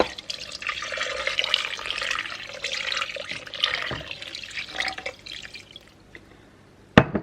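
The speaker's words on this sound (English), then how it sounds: "now we're going to add just 2 cups of water here." About two cups of water are poured into a cooking pot in a home kitchen, a continuous splashing trickle that fades after about six seconds and ends with a sharp clunk.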